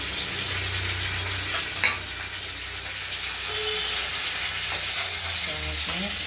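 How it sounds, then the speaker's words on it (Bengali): Tomatoes fry in a pan for a rohu fish curry with a constant sizzle, interrupted by a couple of sharp clatters and scraping stirs. "টমেটোগুলো এরপরে এর সঙ্গে দিয়ে একটু ভাজা ভাজা করে নেওয়ার পরে গলিয়ে নেবো"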